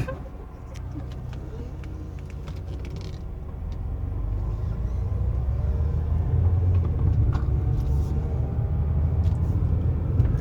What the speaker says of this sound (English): The transmission shifts the way you would expect a 190E to shift.